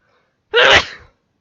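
A single close, loud sneeze bursts out sharply and then trails off quickly into silence.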